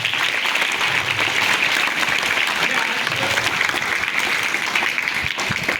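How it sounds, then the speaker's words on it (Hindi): An audience at a school Hindi Day celebration gives the children loud, sustained applause, a thick, continuous wash of clapping from a large crowd. "इन बच्चों के लिए जोरदार तालियां होनी चाहिए।"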